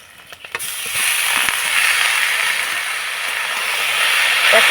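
Grated raw potatoes hit hot oil with fried tempering spices, setting off a sudden loud sizzle after a few brief taps, then a steady, bright hiss that swells slightly and carries on.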